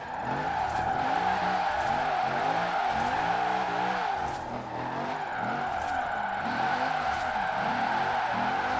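Car in Forza Horizon 4 driving with heavy throttle, engine revving in rapid rising and falling pulses as it slides and skids, loud and continuous with a whining tone above.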